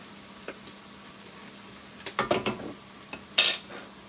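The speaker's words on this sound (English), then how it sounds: "And then we have just a quick stir." A pan is stirred quickly after a tablespoon of oyster sauce goes into tuna shito for chicken fried rice: scattered clinks and scrapes of a utensil against the pan, clustering into a short busy burst and then one sharp clatter, with no talk.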